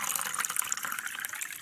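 Water of the Ganges at Gomukh, its source in Uttarakhand, rushes and splashes close by in a continuous bright gush with no voices.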